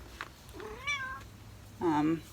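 A small cat meows twice in a basement, a rising drawn-out mew followed by a louder, fuller one, close to the microphone with faint background hum and no talk.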